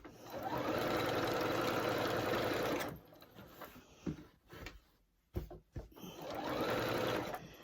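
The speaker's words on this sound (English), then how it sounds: "I think what I might do is try and keep it straight and let it just run round" A Singer 8500Q sewing machine quilting a circle runs in a steady rapid stitching whir for about three seconds, pauses amid handling clicks and thumps, then starts stitching again near the end, close and clear.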